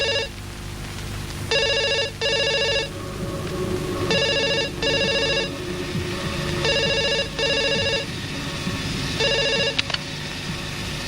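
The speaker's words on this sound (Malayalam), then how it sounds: "ഞാൻ ഫോണൊന്നും എടുക്കട്ടെ." A telephone rings loudly in repeated electronic double bursts, each pair of trills followed by a short pause, with background noise continuing underneath.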